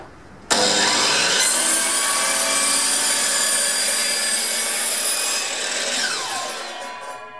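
A slide circular saw spins up abruptly and cuts through a wooden fence. A loud, steady whine holds for about five seconds, then eases down as the blade winds down.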